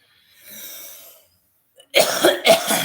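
A soft exhale, a moment of quiet, then a close, harsh fit of several coughs in quick succession.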